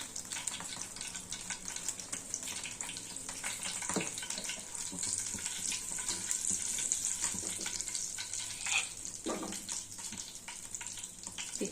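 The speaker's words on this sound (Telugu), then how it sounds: "పోపు వేసుకుంటున్నానండి" Mustard and cumin seeds sizzle in hot oil as a tempering for masala poori curry, a steady frying hiss with scattered pops and crackles and no talking.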